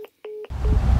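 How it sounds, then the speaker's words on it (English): Telephone keypad tones sound in a few short beeps during a call, followed by a sudden burst of loud, rushing line noise as the call cuts off. "What you just heard was actually two phone calls where he hung up on us"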